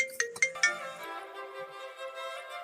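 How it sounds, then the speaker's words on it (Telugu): A phone ringing with an incoming call, a few quick tonal chimes at the start that settle into a sustained melodic ringtone, faint and fairly distant, with no talk. "ఫోన్ వస్తున్నట్టుంది, ఇచ్చేసి వస్తా."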